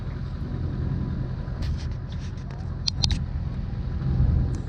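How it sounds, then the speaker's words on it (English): Dune buggies and other off-road vehicles driving around on sand dunes at a resort, a steady low engine rumble in the distance with a few brief higher motor whines passing through. "there's all sorts of vehicles that are running around out there in the sand"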